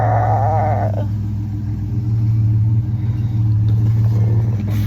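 A pickup truck, likely an older Chevy, idles and rolls up close outside with a loud, steady low engine rumble that continues throughout, with no talking.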